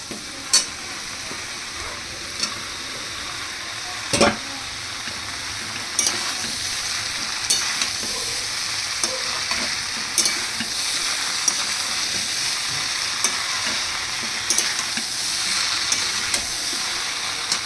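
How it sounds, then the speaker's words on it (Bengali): Prawns fry in a pan with a continuous hissing sizzle, punctuated every second or two by sharp scraping stirs and clinks of a utensil against the metal, close and fairly loud throughout. "এবার এর মধ্যে আমি দিয়ে দিচ্ছি চিংড়ি মাছগুলো"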